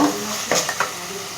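Chicken pieces stirred into sizzling spice masala in a pan, a continuous frying hiss with a few short scraping clicks from the spoon, close and clear, no voices.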